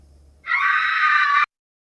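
A person's scream played as a sound effect: one loud, sustained high-pitched cry of about a second, starting abruptly and cutting off sharply, with a faint low hum before it and silence after.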